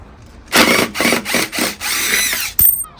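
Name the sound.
removing timber supports from a poured concrete countertop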